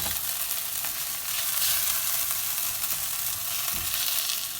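Garlic and ginger fry in a pan for a chicken tikka chasni, a steady close, bright sizzle with crackling that holds throughout, with a faint stir or pan knock near the end and no voices.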